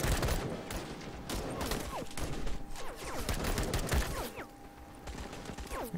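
Continuous gunfire in the game Call to Arms, a dense crackle of shots with some heavier hits, mixed with mechanical clanks and creaking, plus a steady high whine through the middle.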